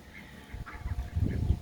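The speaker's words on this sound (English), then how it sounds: "The mamas are quacking encouragingly." Mother ducks give soft, scattered quacks among their ducklings outdoors, a few short calls rising toward the end over faint background noise.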